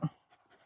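A dog pants and gives a short whimper, one loud breathy burst at the start followed by faint, soft breathing sounds.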